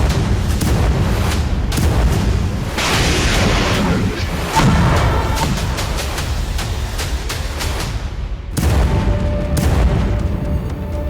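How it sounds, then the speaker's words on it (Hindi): Russian artillery fire and kamikaze drone strikes hitting Ukrainian military vehicles, a loud, continuous stretch of booming blasts and sharp cracking bursts layered over heavy rumble, with several distinct impacts standing out. "रूसी तोपें और कामिकाज़े ड्रोन यूक्रेन के सैन्य वाहनों पर बमबारी कर रहे हैं।"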